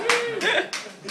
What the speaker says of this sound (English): You can applaud, sir.